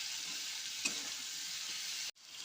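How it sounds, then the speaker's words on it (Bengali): Potatoes sizzle steadily in hot oil in a pan while being cooking into cumin potatoes, a bright continuous frying hiss with a brief scrape of stirring partway through, then a sudden short drop-out before the sizzle resumes. "আলুগুলোকে দিয়ে দেবো, আলুগুলোকে দিয়ে ভালো করে নেড়ে নেব"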